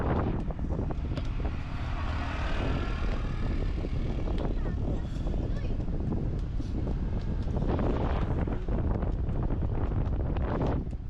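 Strong wind buffets the microphone nonstop from a front seat of a tourist caravan bus driving along Marine Drive in Cox's Bazar, a dense roaring rush with road rumble beneath.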